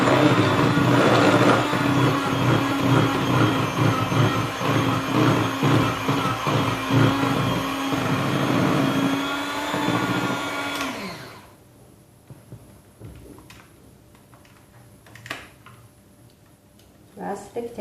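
An electric mixer whirs loudly and steadily through shortbread dough for about eleven seconds, then cuts off, leaving quiet room sounds with faint clicks.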